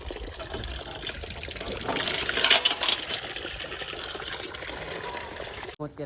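A cow drinks water from a tank, sloshing and gurgling steadily, swelling briefly in the middle, with soft lapping and splashing close by.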